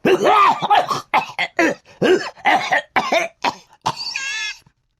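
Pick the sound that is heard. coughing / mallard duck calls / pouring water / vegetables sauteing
coughing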